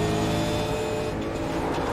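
Race car in a sim racing game at Spa, a steady loud engine drone with harmonic whine as another car runs alongside on the left, continuous for the full two seconds.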